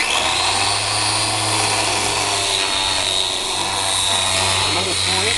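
A power tool grinds steadily as it sands fiberglass on a boat rudder, a loud continuous whine with a low hum beneath it and no pauses.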